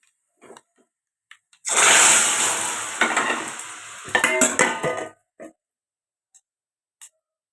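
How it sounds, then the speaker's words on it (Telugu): Tempering spices drop into hot oil and set off a loud sizzling burst that runs for about three and a half seconds. A few soft kitchen clinks come before and after it, and no one speaks. "మనం తాలింపు వేయగానే చర్రని సౌండ్ వస్తే రాగానే మూత వేసేయాలి."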